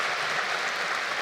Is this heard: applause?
yes